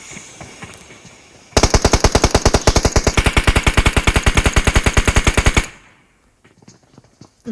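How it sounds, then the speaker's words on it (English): Sustained automatic gunfire from a PUBG match, a rapid, even burst of loud close shots lasting several seconds before cutting off into near silence. "Shots being fired."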